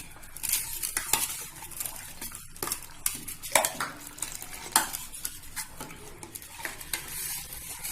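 Clattering of a spoon stirring cornflour into water inside a bowl or pan, with repeated scraping taps and light kitchen clinks, close by, no talking.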